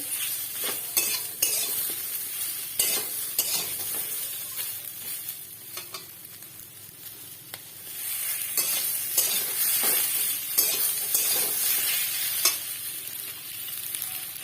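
Bitter gourd (karela) or kakrol slices frying in ghee, a steady close sizzle broken by repeated scrapes and clinks of a utensil stirring in the pan, with no voices.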